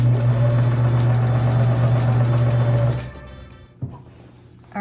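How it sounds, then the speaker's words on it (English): A sewing machine stitches fabric for a camper van cushion, a loud, steady mechanical whir for about three seconds that then stops, followed by a single soft clunk. "and then just keep sewing"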